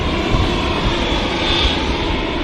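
Deep, loud jet aircraft engine rumble at Manchester Airport, a broad continuous roar close by and steady throughout with no talking.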